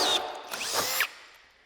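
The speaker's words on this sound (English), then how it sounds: "Now let's turn the hammer drill function on and you can kind of get a feel for what the difference is." Hammer drill running with the hammer function engaged, a loud, harsh, buzzing whine that rises again midway, then cuts off abruptly and leaves quiet room tone.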